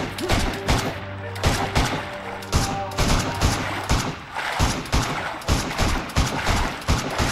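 Video game gunfire in a multiplayer match: rapid repeated shots and bursts, loud and close, sometimes layered with automatic fire, with occasional brief voices underneath.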